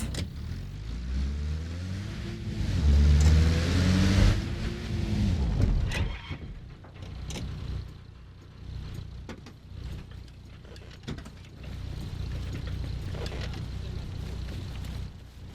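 A car in the video game Arma Reforger drives off with a rising engine roar that peaks and then settles into a steady, quieter running hum with occasional mechanical clunks.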